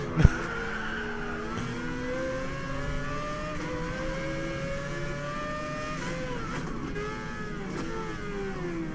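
Cars drive in a PlayStation 5 racing game, their engines droning and revving in steady rising and falling tones, with a sharp knock at the start and a brief shift or pass later on.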